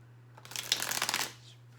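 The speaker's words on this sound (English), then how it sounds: "I just want to get these cards put on the table here." A deck of tarot cards shuffled by hand at close range, a brief riffling flutter lasting about a second with no voices.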